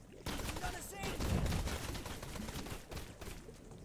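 Dense machine gun fire from the naval combat game Blazing Sails, a sustained rattling barrage loud and close, with voices talking over it throughout.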